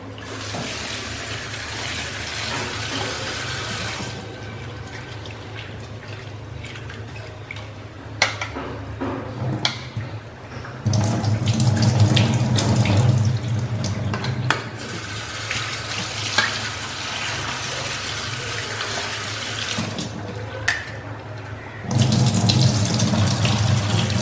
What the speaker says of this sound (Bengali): এবার আমরা ডালটা জাল হতে হতে ফুলকপি আর আলুগুলো ধুয়ে নেব